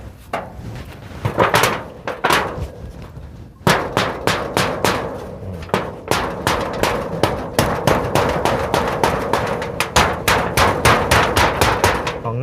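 Nails being hammered by hand, with rapid, steady metallic-wooden blows that come in bursts at first and then a long dense run of close, loud strikes, with no talk.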